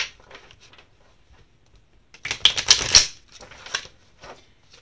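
Tarot cards being shuffled by hand, a soft riffling patter at first, then a louder, denser burst of card flicks before it fades back to quiet rustling.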